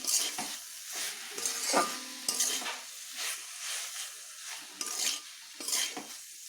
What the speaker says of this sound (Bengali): সর্ষের তেলটি দিয়ে একটু নেড়ে নেব